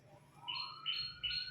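A small bird chirps in a Minecraft game world, three quick bright rising tweets evenly spaced over a quiet background, fairly faint and alone.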